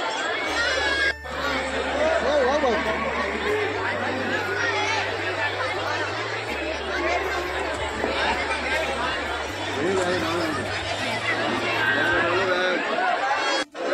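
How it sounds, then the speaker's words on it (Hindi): A night crowd of pilgrims on a ghat of the Ganges at Haridwar, a dense, steady babble of many voices close by with scattered shouts, and a low hum running underneath. "भीड़ देख रहे हो घाट पे रात में कितनी ज़्यादा भीड़ है"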